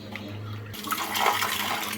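Fresh water is poured over tamarind in a kitchen to soak it for sambar, a steady splashing pour that starts abruptly after a quiet moment and continues to the end.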